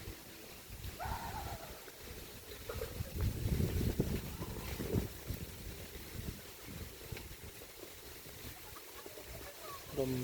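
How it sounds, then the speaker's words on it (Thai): Wind blows outdoors at a temple garden, a soft broadband rush with gusty swells and faint rustling, low in level with no clear voices. "ลมสิพัดเย็น"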